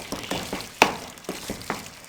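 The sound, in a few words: roasting sabooni mixture on low flame while stirring with spoon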